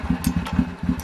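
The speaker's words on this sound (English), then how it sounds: "Let me try and see if I can get this engine a little bit warm" A motorcycle engine idles while warming up during clutch troubleshooting, a steady low throbbing with an even pulsing rhythm close by, broken by a few brief higher clicks or rattles.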